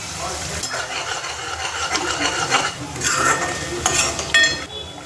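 Garam masala, turmeric and spices for chickpea curry sizzle and crackle in hot oil in a pan while being stirred, with steady frying hiss and intermittent spoon scrapes against the metal.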